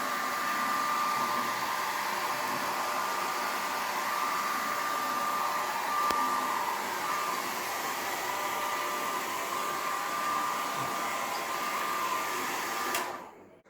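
A hair dryer blows hot air onto a delivered package, a steady, even whoosh that runs for about thirteen seconds and then cuts off abruptly.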